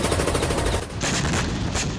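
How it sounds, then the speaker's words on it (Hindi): Rapid machine-gun fire from a Russian military helicopter shooting at Ukrainian sea drones near Crimea, a dense continuous rattle of bursts lasting the whole moment, loud and without speech. "रूस की वायुसेना ने हेलीकॉप्टर से गोलीबारी करके कई ड्रोन नाकाम कर दिए"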